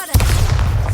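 A Bombarda exploding spell goes off in Hogwarts Legacy, a single sudden loud boom with a deep rumbling tail, close and forceful.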